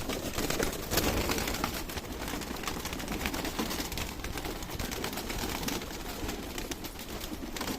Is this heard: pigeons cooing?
yes